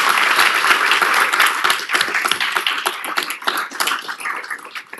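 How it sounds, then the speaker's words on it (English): City council meeting audience giving a round of applause, dense clapping that starts full and thins into scattered individual claps as it fades over several seconds. "Can we give them all another round of applause?"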